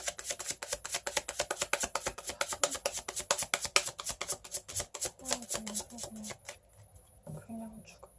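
Tarot cards are shuffled close by in a fast, rhythmic run of riffling snaps that slows and fades near the end, with a soft voice speaking briefly over the last moments.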